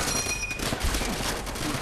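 A gun in Call of Duty: World at War fires in a rapid, steady stream of loud shots with a thick rumble beneath, sustained for about two seconds.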